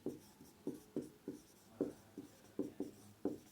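Chalk or marker writing on a board during a physics lesson gives about ten quick, sharp taps and short strokes in an irregular rhythm, close but quiet, with no speech.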